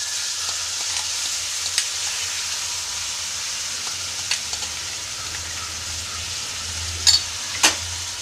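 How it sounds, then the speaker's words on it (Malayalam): Ripe nendran banana paste frying in ghee for a Kerala banana payasam, a steady soft sizzle with a few sharp clinks of a spoon against the pan near the end, no voices. "ഇനി അല്പം കൂടെ നെയ്യ് ഒഴിച്ചിട്ട് നമ്മൾ എടുത്തു വെച്ചിരിക്കുന്ന ഈ പഴം അരച്ചത് ഇതിലേക്ക് ഇട്ട് കൊടുക്കാം."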